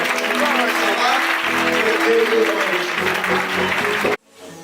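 A church congregation claps and cheers loudly in a dense, sustained burst of applause with voices mixed in, stopping abruptly near the end.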